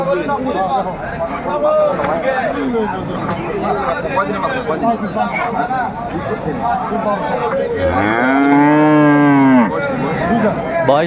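Several dairy cows low and moo amid a busy murmur of people talking at a livestock market in Aftabganj, Dinajpur, with one long, loud moo standing out near the end.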